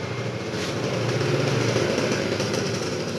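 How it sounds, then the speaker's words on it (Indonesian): A Kawasaki KLX 150 trail motorcycle with stock ignition and a Yongjaya aftermarket exhaust idles steadily nearby, a continuous even engine rumble with no talking. "Kita coba nyalakan seperti apa bunyinya."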